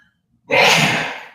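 One sudden, loud, breathy burst comes close by after near silence and trails off quickly, during a zoning commission meeting.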